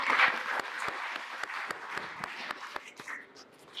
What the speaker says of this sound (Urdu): اس پہ بھی آپ لوگ تالیاں بجائیں